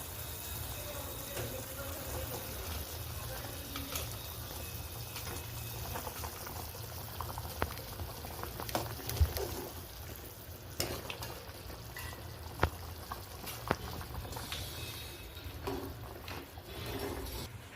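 Jeet vada simmer in a pot of curry over a low gas flame, giving faint, steady bubbling and soft spluttering with a few small pops and knocks.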